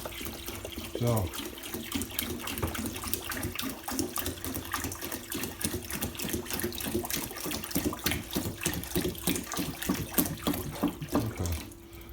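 Water runs steadily from a kitchen tap into a sink, a loud continuous gush filling it up, with a person speaking briefly over the flow.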